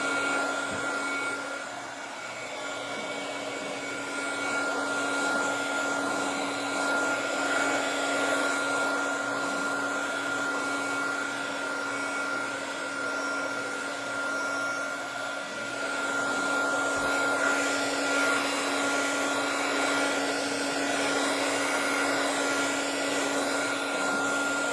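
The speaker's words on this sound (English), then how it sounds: "Now I'm going to take the heat gun and dry the front." Heat gun drying paint on a metal craft piece, a loud continuous whirring blower drone with a steady tonal hum lasting throughout, no voices.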